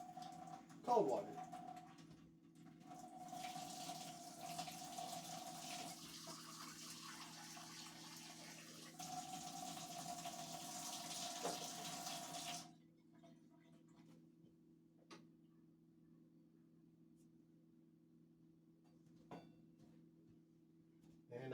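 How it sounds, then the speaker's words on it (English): Cold tap water runs into a container in a home kitchen while making a homemade Big Mac, a steady rushing flow for about twelve seconds before stopping, followed by quieter room sounds and faint ticking. "the next thing you do is just fill it with some water"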